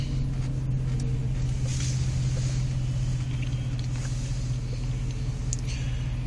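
A 2006 Jeep Grand Cherokee with a custom side exhaust idles at a stoplight, giving a steady, deep, even rumble that stays constant and close throughout.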